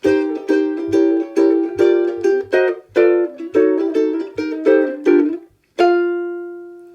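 A jazz ukulele plays a brisk chord-melody intro to a tune, with crisp plucked chords in a bouncing rhythm that ends on a single ringing chord.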